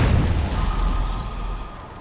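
Skyrim dragon shout Thu'um blast: a heavy, booming burst hits at once and rumbles out over two seconds, loud and close, with no talk.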